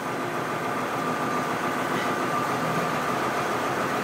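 A 1949 Ford truck fitted with a Cummins diesel engine rumbles steadily in gear, a constant low mechanical drone with a faint whine, unchanging and close throughout with no voices.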